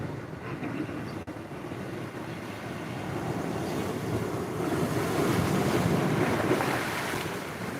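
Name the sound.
water waves at the shore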